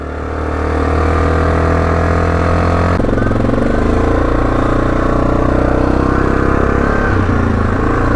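A Yamaha Grizzly 660 ATV engine runs steadily up close on a back road, a loud continuous drone that shifts pitch partway through as the throttle changes.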